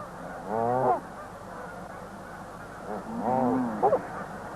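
Ducks in Canada give two bursts of loud honking calls in their natural habitat, each a quick series of nasal notes separated by a pause, close and clear.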